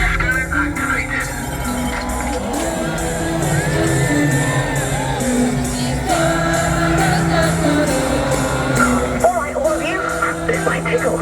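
A large crowd at an Alton Towers fireworks show cheers, whoops and shouts continuously over loud music, the roar swelling steadily across the whole stretch.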